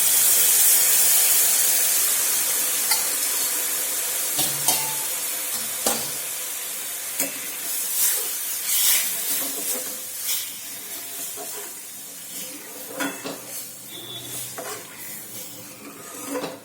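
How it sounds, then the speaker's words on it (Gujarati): Millet flour being stirred with jaggery water in a pan, a soft hiss with light scraping and intermittent stirring taps that grow more spaced and uneven toward the end. "બધું બરાબર મિક્સ કરી લઈશું અને આને આ રીતે બે મિનિટ માટે આપણે ઉકાળવાનું છે"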